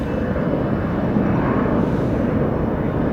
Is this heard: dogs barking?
no